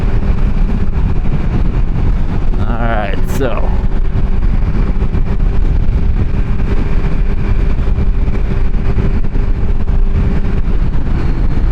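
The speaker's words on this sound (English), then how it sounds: "Now, the inline 4 does sound fantastic." Kawasaki inline-four sport naked motorcycle riding along at highway speed, a steady loud engine drone with wind rush throughout, and a brief rising whine near the start under a short spoken phrase.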